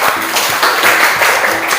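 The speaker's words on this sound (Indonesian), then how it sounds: "tepuk tangan" Classroom applause in a Year 12 Indonesian language lesson, a loud, close burst of many students clapping that carries on steadily.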